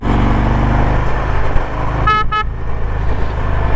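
Two short honks from a Harley Davidson Ultra motorcycle horn in city traffic, loud and close, sounding in quick succession over a constant low rumble of engine and traffic.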